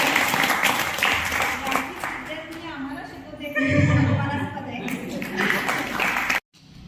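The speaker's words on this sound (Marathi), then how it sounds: "टाळ्या." Audience applause at a yoga camp gathering, a broad crackling wash of clapping that continues steadily for several seconds, swells louder near the middle and stops abruptly just before the end.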